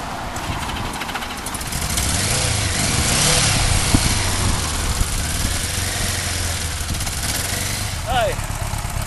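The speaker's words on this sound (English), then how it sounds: "this here is my 1976 Honda GoldWing GL1000" A 1976 Honda GoldWing GL1000 motorcycle engine runs at a steady idle, close and moderately loud, with a person talking over the engine note throughout.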